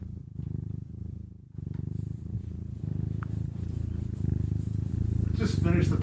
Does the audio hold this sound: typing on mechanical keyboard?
no